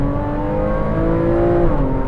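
A Porsche 981 Cayman S fitted with F1 headers revs hard, a loud, close, sustained engine tone that climbs in pitch and holds before easing slightly.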